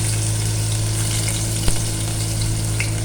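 Chopped onion and green chili fry in hot oil for a baghar tempering, giving a dense, steady sizzle with one brief knock partway through.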